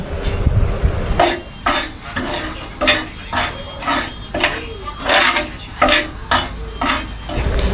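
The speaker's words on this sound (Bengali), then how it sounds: "লবণ দিয়ে তার মধ্যে ভাজা মরিচ ছিল সেটা অ্যাড করে দিচ্ছি আর ভালোভাবে নেড়ে চেড়ে একটু লাল করে নিচ্ছি" Salt is dry-roasted with fried chillies in a pan and stirred until reddened: close, rhythmic scraping strokes of a spatula on metal, roughly a dozen in steady succession, over a faint sizzle.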